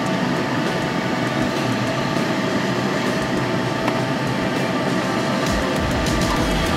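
A K40 laser cutter running at full power and 8 mm per second, cutting through material in a single pass, gives a steady, loud broadband whir with constant fan and air-assist noise and no talk.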